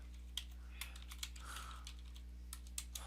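Quiet, scattered keystrokes clack on a computer keyboard, a few light taps with short pauses between them, set against a low steady electrical hum.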